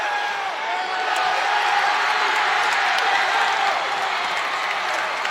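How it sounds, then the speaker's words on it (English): A raucous North Gwinnett high school basketball crowd in a Class 7A playoff game roars and applauds continuously, loud and dense, with an announcer's voice faintly under the din. "The North Gwinnett crowd is raucous behind us."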